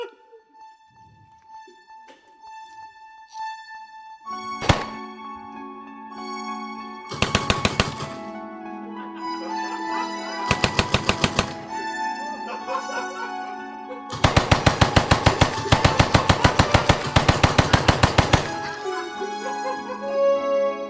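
Bursts of rapid automatic gunfire, several rattling volleys separated by pauses, loud and close over a sustained musical tone.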